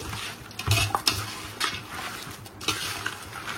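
Marinated chicken being stirred and mixed in a pot for chicken dum biryani, with a few scraping spoon strokes and soft wet squelching, close and fairly quiet with no talk.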